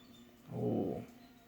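A puppy gives one brief, low, moaning whimper up close, rising and fading within about half a second.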